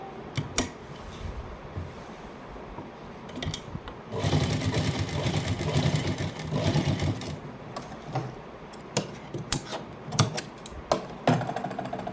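A sewing machine stitches on a sleeve, starting and stopping in short bursts of rapid clatter, then running in a longer steady stretch before more brief runs, close and loud.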